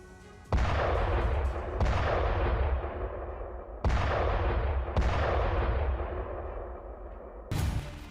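Bombing in Kyiv, Ukraine brings four heavy explosions in quick succession, each a sharp boom that rumbles away into a long, distant-sounding roll, with a fifth blast starting at the very end.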